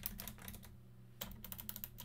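Rapid typing on a computer keyboard while entering network configuration commands, a quick run of close, crisp key clicks with one short pause in the middle.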